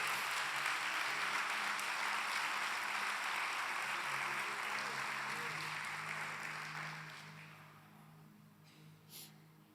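A church congregation applauds loudly and steadily through most of the stretch, the dense clapping thinning and fading toward the end, with a low organ-like tone sustained underneath.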